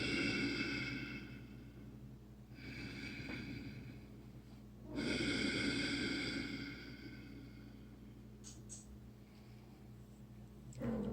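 Slow, heavy breathing made by pressing on the throat, with long rasping inhalations and exhalations swelling and fading in a steady cycle, close to the microphone over faint background hum.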